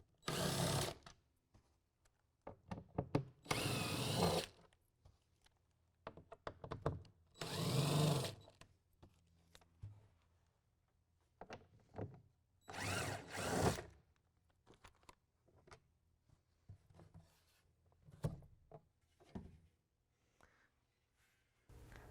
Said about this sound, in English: We're going to use a T30 Torx bit to take out the bolts.